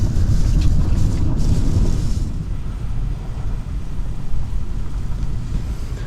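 Strong wind in Spain roars and buffets the microphone in heavy low gusts beside a parked van, loud and continuous, easing slightly partway through.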